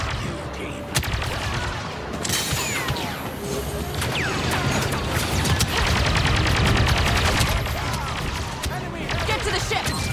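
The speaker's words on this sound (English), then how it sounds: "Then just keep shooting!" Steady blaster gunfire in a Star Wars Battlefront 2 battle on Jakku, dense overlapping shots with crashes and explosions mixed in, continuous and fairly loud, with voices shouting under the din.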